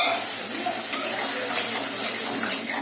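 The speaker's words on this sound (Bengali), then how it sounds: "এর মধ্যে একটু এবার জল দিলাম" Prawn curry in a pan gives off a continuous bright hiss and sizzle as water is added, steady and moderately loud throughout, with no voices.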